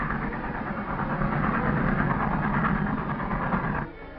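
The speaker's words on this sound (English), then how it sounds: "Look, the train came back for us." In a 1944 western serial, a train arrives with a loud steady rumble and clatter of a rail engine that cuts off abruptly near the end.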